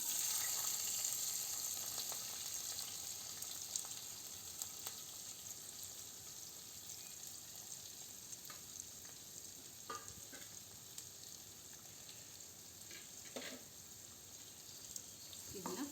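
Sliced onions fry in a pan as a faint, continuous hiss with occasional soft pops and scrapes, low in level throughout.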